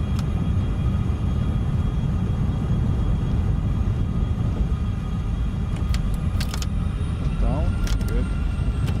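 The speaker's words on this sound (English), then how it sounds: "Gears coming down" F-14A Tomcat landing gear lowering in a flight simulator: a few brief mechanical whirs and clunks around the two-thirds mark, set over a steady, loud jet engine drone that fills the whole stretch.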